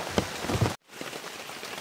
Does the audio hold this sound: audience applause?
no